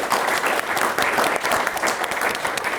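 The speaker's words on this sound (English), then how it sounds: "a round of applause to the panel," A crowd at a strategy launch event gives a steady, full round of applause for a panel, with dense clapping that is loud and continuous and has no talk over it.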